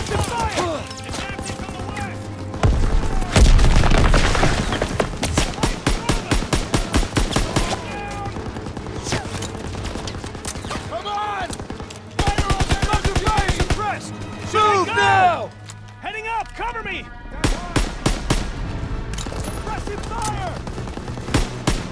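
Call of Duty: WW2 gunfire on Hill 493 rattles in loud, rapid bursts of rifle and machine-gun fire, with sharp single shots between volleys and shouted orders from soldiers over the din.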